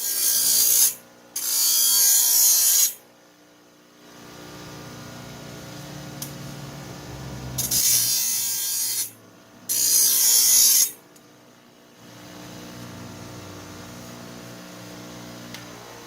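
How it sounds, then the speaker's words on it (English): Table grinder smoothing the jagged lip on a freshly cut metal rod for a 3D-printed Boba Fett armor display stand: two pairs of loud harsh grinding bursts, each a second or two long, separated by quieter stretches of low hum. "we're going to be hitting this with the table grinder a little bit here to take care of that lip"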